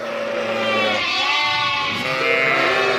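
Kangal sheep and their twin lambs bleat at a reunion on a farm, several overlapping calls rising and falling close by over steady background noise.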